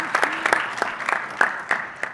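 A small audience at a programming talk claps in scattered, uneven bursts, close and moderately loud, lasting about two seconds.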